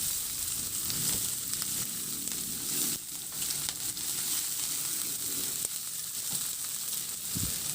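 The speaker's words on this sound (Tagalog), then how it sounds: "bawasan ko muna yung mantika at magtira lang ng kaunti at igisa ko na rin yung sibuyas" Chopped onions sauté in a little leftover oil in a frying pan for a tilapia steak dish, giving a steady, close sizzle with faint stirring scrapes throughout and a soft clink near the end.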